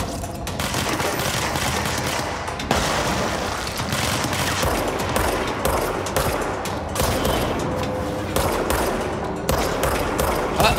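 Rapid sustained gunfire from the video game Control, dense bursts of automatic shots running continuously and loudly throughout, with brief heavier booms mixed in.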